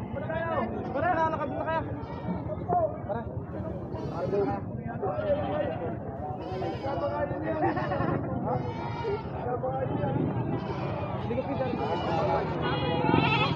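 Goats bleat repeatedly throughout a busy Filipino livestock market, their wavering cries mixed with steady crowd noise and people talking nearby.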